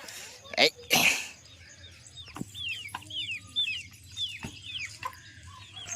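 Brief voices and a cough-like burst open, then chickens nearby give a series of short, rising peeping calls over quiet background noise.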